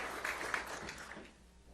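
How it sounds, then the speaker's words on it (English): A crowd at a political speech event applauds Brooke Rollins with a soft, steady patter of clapping that fades out after about a second and a half, quiet and distant with no voices over it. "Let's give her a round of applause as well for leading this great institute"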